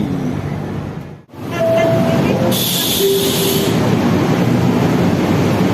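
A KTM Komuter train pulls into KL Sentral station, a loud rolling rumble with a brief dip, a short tonal squeal and a burst of high hiss from brakes or doors, heard from on board.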